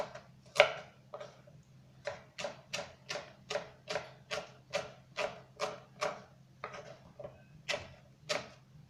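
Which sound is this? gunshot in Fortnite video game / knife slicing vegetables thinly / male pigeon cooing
knife slicing vegetables thinly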